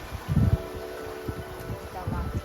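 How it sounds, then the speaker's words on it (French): Strong wind buffets a sailboat under sail, gusting in bursts of rumbling noise against the microphone. "Eh oui, il y a énormément de vent là en fait."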